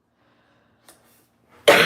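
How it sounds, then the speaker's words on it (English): A woman who is feeling unwell lets out a single loud, close cough near the end, after near silence broken only by a faint small sound. "why is it when you always get on a video is when you start to cough?"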